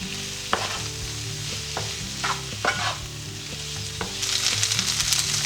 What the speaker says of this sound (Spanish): Vamos removiendo constantemente para que se dore por todos los lados.